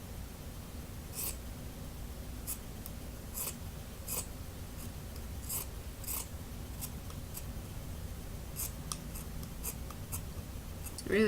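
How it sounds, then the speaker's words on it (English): Sharp snips of dull scissors cutting through folded, flat-laid fabric for a cat cosplay sleeve, a string of separate cuts at an uneven pace over a low, steady room hum. "fold my fabric, lay it flat, and then cut the shape that I made"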